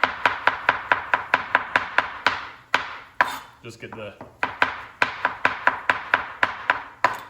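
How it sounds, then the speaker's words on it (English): Rapid, rhythmic knife chops on a cutting board, a brief pause with a quiet voice and rustling, then steady chopping resumes. "You like how I'm talking in between chopping?"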